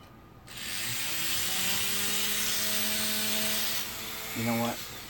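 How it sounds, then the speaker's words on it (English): A small rotary cutoff wheel cuts through a wooden spindle for a miniature model build, making a continuous high, buzzing whine that holds steady for several seconds and then briefly rises in pitch. "I'm going to use my cutoff wheel, and I'm just going to remove this width of the cutoff wheel, the thickness, and then glue it back together."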